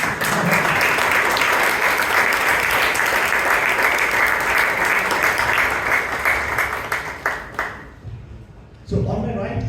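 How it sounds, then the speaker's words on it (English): An audience at a Toastmasters club debate meeting claps loudly and steadily, then the applause thins into scattered claps and fades before a voice begins speaking near the end. "We can give a round of applause now."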